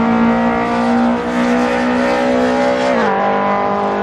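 A BMW M3 Group A race car, a first-generation M3 in specific competition preparation, heard in the Assetto Corsa racing game: a loud, sustained engine drone holding steady, then its pitch dips briefly near the end, with no talk.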